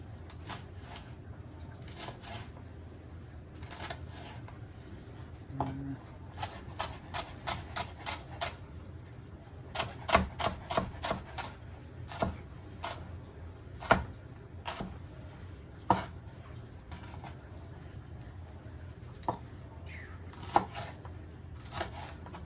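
A knife minces vegetables on a cutting board while a chili is prepared, giving a run of quick, sharp taps in irregular bursts, close but fairly quiet, over low room hum.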